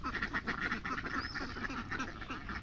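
Ducks walking along a village road in the morning, quacking repeatedly in a rapid, overlapping chorus close by over a light outdoor background.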